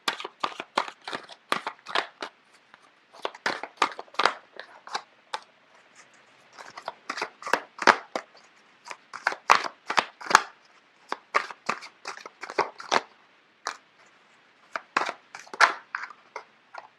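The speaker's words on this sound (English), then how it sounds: "I don't know why the cards are just flipping left and right." Tarot cards being shuffled and flipped, a long run of quick, crisp riffling bursts and slaps in irregular clusters, close and fairly loud with short pauses between.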